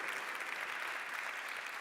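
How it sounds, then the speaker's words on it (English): Sustained applause from an audience at a liberal party congress in Vienna, a dense, even wash of many hands clapping at moderate distance, steady throughout with no voices standing out. "let's have a big round of applause for the British colleagues having done that 80 years ago."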